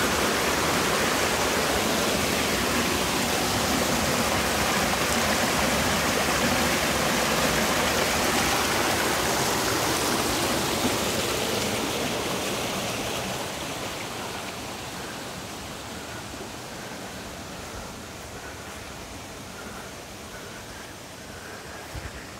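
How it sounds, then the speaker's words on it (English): Water pours from a pond toward a mill in a steady, loud rushing stream that softens slightly toward the end, with no voices. "This is the water that goes to the mill from this pond."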